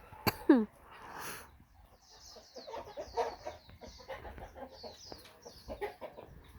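Chickens cluck with one sharp rooster-like squawk near the start, then a run of irregular clucks and calls close by, with no talk over them.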